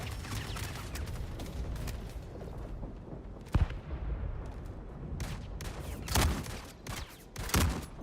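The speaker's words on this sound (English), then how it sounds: "Oh, that's right. There's a Gatling." Gunfire from a Gatling in a space combat game, a dense continuous barrage with scattered sharper bursts and cracks standing out near the middle and end.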